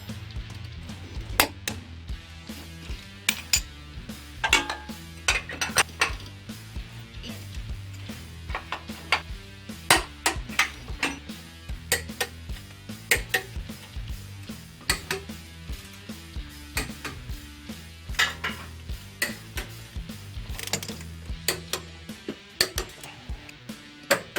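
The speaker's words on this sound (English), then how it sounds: "Retorquing fasteners." Fasteners being retorqued with a wrench, giving repeated metallic clicks, clinks and ratcheting bursts at close range, steady and busy throughout.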